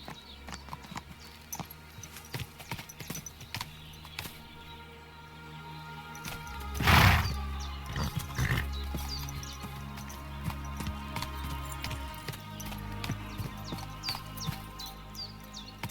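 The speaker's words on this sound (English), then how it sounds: "that's what I need to figure out how to slow the horse down" Horse hooves clip-clop at a steady riding pace in the game Kingdom Come Deliverance II, with a brief louder thump midway, light birdsong and ambient outdoor sound around the rider.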